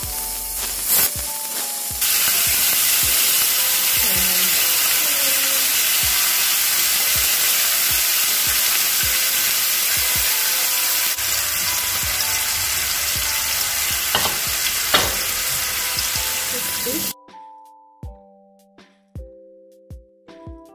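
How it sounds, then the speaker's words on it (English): Bacon sizzles loudly and continuously in a pan with crackles and pops, then the hiss stops abruptly, leaving scattered clinks and kitchen knocks. "Time to add my bacon"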